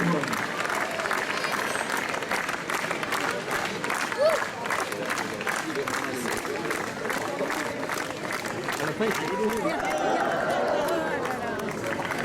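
Spectators at a Basque strength contest, during a cart-lifting event, clap and cheer continuously with steady, even intensity and chatter mixed in throughout.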